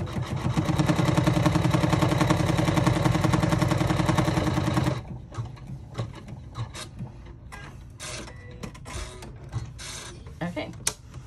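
An embroidery machine runs a placement stitch for card slots on a bag, a loud rapid buzzing needle rhythm for about five seconds that stops abruptly, followed by scattered handling clicks and rustles.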